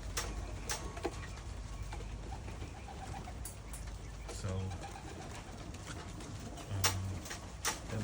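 A flock of pigeons gathers in and around an outdoor trap, soft cooing and wing flutters over steady background noise, with a brief voice briefly heard.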